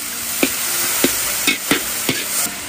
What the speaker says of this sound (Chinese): 放入酱油。